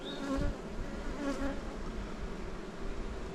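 Honey bees buzz on hive frames in an apiary, a steady, close drone, fairly quiet and continuous with no talking.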